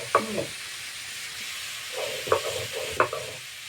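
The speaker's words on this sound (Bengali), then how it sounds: "কড়াতে দিয়ে নেড়ে দিচ্ছি ভেজে নিচ্ছি" Dried chili and cumin being stirred and dry-roasted in a wok, a few sharp scraping strokes of a spatula over a faint background hiss, with quiet pauses between the stirs.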